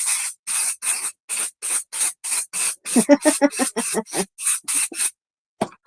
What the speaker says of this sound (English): let me just spray this